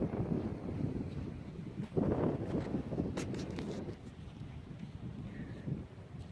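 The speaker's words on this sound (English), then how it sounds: "This is a warm day, but very breezy." Breezy wind at the Great Salt Lake in Utah, recorded on a warm day while standing on a peninsula. A steady, rushing buffet of wind hits the microphone throughout, with a stronger gust about two seconds in and no talk.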